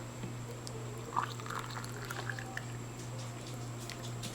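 Hot water pours into a Staresso portable espresso maker, a faint, brief trickle and splash over a steady low electrical hum in a quiet room.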